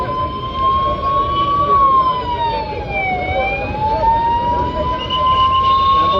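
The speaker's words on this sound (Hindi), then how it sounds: "एम्बुलेंस जो है वो भी यहाँ पर आई है।" An ambulance siren wails steadily near a highway road blockade outside a mall, its tone sliding slowly down and back up over steady traffic and crowd noise at a protest.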